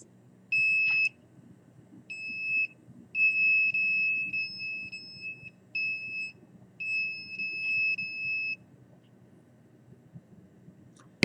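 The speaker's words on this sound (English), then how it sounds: "the alarm going off on the obliques." A detector alarm sounds in short, high electronic beeping bursts, repeating in uneven groups over a faint low hum, with no talking.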